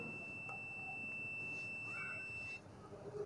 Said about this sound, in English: After changing the polarity of the probes, the beep sound was heard.